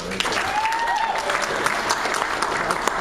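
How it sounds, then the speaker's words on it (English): Steady, dense applause from a sizable comedy club crowd, clapping continuously at a fairly loud level with a few sharper claps standing out. "Give it a big round of applause for Mr. Tyler."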